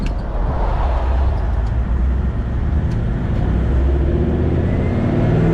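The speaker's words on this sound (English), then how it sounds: "it's a bit of a muffler, but I quite like the sound of it because that ute has been tuned" A tuned Toyota 79 series work ute with an aftermarket muffler pulls away. Its loud, continuous, throaty engine rumble is mixed with road noise and stays strong and close the whole time.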